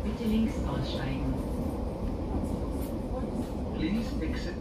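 Munich S-Bahn commuter train pulling into a station, a steady broad rumble of wheels and carriage noise throughout with faint squeals, under a muffled background voice.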